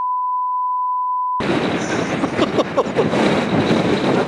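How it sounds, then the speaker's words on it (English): A steady electronic beep gives way to loud, gusty wind buffeting the microphone on high ground near Ely, Nevada, roaring continuously with rough bursts. "It's really windy up here."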